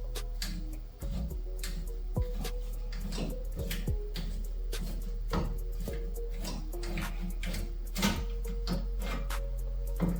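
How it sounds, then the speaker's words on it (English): A hand pipe cutter is turned clockwise around a pipe during a home plumbing job, producing faint, close, repeated ticking clicks and scraping at an uneven rhythm over a low background hum. "Cut the other pipe."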